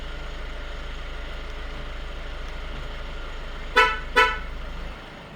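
A 2020 Kia Carnival engine idles with a steady hum, then two short horn chirps sound in quick succession as it is shut off by remote, and the engine drops off and goes quiet.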